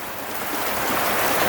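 Rain falls steadily in a dense, hissing wash that grows slightly heavier toward the end, with no voices heard.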